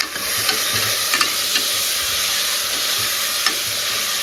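Ingredients for kuzhambu sauté and sizzle steadily in a hot pan, a dense continuous frying hiss with occasional stirring clicks throughout.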